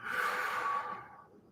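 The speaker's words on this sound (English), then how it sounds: "Breathing out, releasing and relaxing" A single deep exhale during a guided meditation, a soft breathy rush that holds steady and then fades away.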